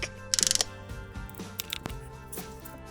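Torque wrench ratcheting and clicking while tightening a bolt on a Can-Am Spyder F3 during an oil change, a series of quick close mechanical clicks, quiet and with no talking.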